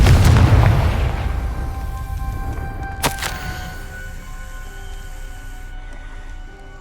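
A loud fiery Confringo spell explosion in the Hogwarts Legacy video game booms at the start, then rumbles and decays, with a sharp crack midway and a lingering tonal ring, no speech.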